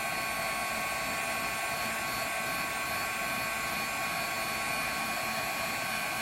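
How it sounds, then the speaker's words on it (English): A heat tool blows hot air steadily to melt embossing powder during a card-stamping session, a constant loud whooshing hum with no break and no talking. "So I'm just going to take my heat tool and heat this embossing powder up."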